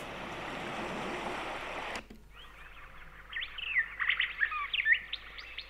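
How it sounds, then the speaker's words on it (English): After a burst of rushing noise cuts off, bright bird chirps and twittering songs rise over a quiet north woods background on a Sound Oasis S-6000 sound machine, several calls overlapping. "North woods with some birds."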